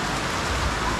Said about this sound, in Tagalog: bubuhos na naman yung malakas sa ulan